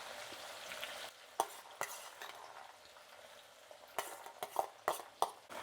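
Field bean seeds frying in hot oil for a crunchy snack mix, a steady sizzle broken by the clinks and scrapes of a ladle stirring them, up close and without talk.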